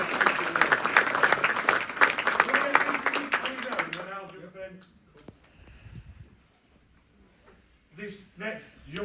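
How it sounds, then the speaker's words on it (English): An audience at a martial arts instructor promotion ceremony claps for an Advanced Instructor Award, a few seconds of dense applause fading out, then a voice speaks after a pause. "can I have a big round of applause"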